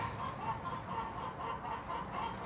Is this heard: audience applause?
no